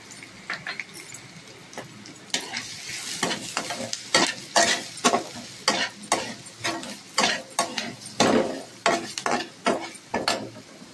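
Spiced masala paste for aloo chop being stirred and fried in a pan, with a steady sizzle under repeated scraping strokes of a spoon in an irregular rhythm, close and moderately loud.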